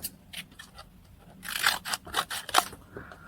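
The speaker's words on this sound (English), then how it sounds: "I'm going to cut that bit off" Scissors snipping off a bit of a paperclip embellishment for a junk journal, a series of close, crisp cuts and crunchy snips that grow louder and more rapid partway through.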